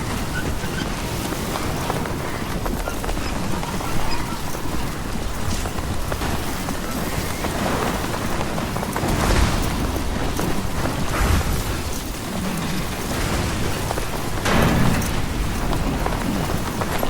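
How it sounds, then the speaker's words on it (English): Steady heavy rain pours in a Death Stranding 2 thunderstorm, a dense continuous hiss with low rumbling thunder swelling now and then beneath it. "I really hope it's not possible to get shocked by lightning"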